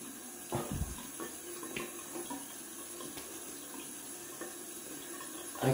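Water runs from a bathroom tap into a sink during a wet shave, a steady hiss and splash heard close up for several seconds, with a brief louder gush near the start and end.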